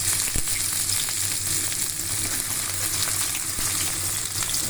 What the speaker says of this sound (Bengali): তেজপাতা আর জিরাটা ভাজা হয়ে গেলে তারপরে দিব পেঁয়াজ